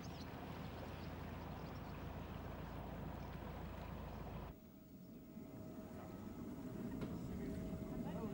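A steady low engine drone of diesel-powered boats moving along a waterway, broad and continuous, dropping briefly in level midway before resuming.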